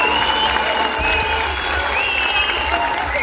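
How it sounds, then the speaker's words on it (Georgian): A crowd at a charity evening event applauds in a long, steady round of clapping, loud and unbroken, with faint tonal sounds ringing above the patter. "მოდით თქვენი გუხარი აპლოდისმენტები"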